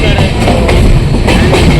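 Loud, continuous rumble of the Kokankanya Express running on rails from CSMT towards Panvel, heard up close from inside, with faint rhythmic clatter and possible voices beneath.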